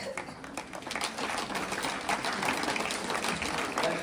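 An audience at a school Earth Day celebration applauds steadily, a dense wash of many hands clapping that stays loud and even throughout.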